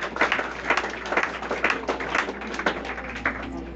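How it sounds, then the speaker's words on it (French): A church congregation claps in a loose rhythmic pattern, steady bursts of hand claps at moderate distance, slightly muffled, with little else around them. "Applaudissez l'Esprit de Dieu dans la vie."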